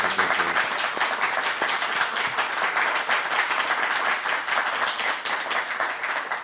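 A church audience applauds steadily after news of more than 2,000 new Christians welcomed at Easter, a dense, even wash of many hands clapping throughout with no talk over it.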